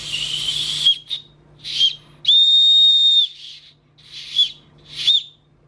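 An old toy whistle is blown in a series of shrill, close blasts: short chirping toots, one long steady shriek, then more brief puffs, loud and alone with breathy edges.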